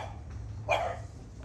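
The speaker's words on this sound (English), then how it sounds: "You can hear we have barking dogs." Dogs barking in the distance outside a Florida home garden, one short, muffled bark standing out over quiet background hum.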